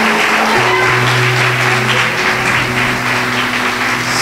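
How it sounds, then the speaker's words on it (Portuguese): Applause from a church congregation fills the space at a welcome reception for a new arrival, loud and steady throughout, with sustained organ or keyboard tones droning underneath. "Vamos aplaudir a Deus pela vida dele?"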